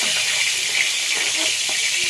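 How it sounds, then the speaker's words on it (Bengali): Cauliflower pieces fry in hot oil in a steady, bright sizzle that holds evenly for the short stretch, with no talking. "এইভাবে এখন লাল লাল করে ভেজে নিলাম ফুলকপিটা দিয়ে তুলে নিচ্ছি"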